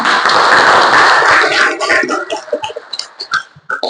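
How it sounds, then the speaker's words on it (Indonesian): A classroom of schoolchildren clapping together at the end of a lesson, a loud dense burst that breaks into scattered, uneven claps before stopping, with a little talk. "Tepuk tangan buat kita."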